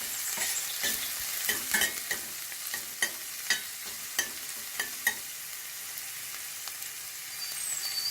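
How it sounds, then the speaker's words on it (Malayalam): Green chillies and curry leaves fry in hot oil for a Kerala-style ginger curry, with a steady crackling sizzle and repeated sharp spoon-on-pan scrapes as they are stirred, close and alone. "പച്ചമുളകും ചേർത്ത് നന്നായി മൂത്ത് കഴിയുമ്പോൾ അതിലേക്ക് കറിവേപ്പില കൂടെ ചേർത്ത് നന്നായി ഇളക്കി"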